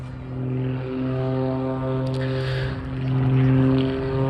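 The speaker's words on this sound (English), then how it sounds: "It has absolutely penetrating vertical performance," An aerobatic propeller aircraft flies vertical manoeuvres at an airshow, a sustained droning engine with rising and falling pitch as it climbs and turns, moderately loud at a distance.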